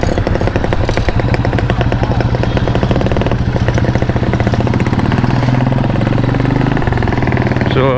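A motorcycle runs steadily and loudly throughout, with a constant low engine throb and dense mechanical clatter, close to the recorder and with no pauses.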